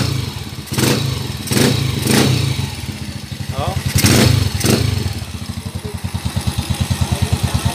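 A repaired motorcycle engine idles and revs nearby, its rapid putter holding steady through brief exclamations and bursts of louder throttle, then settling into an even, pulsing idle.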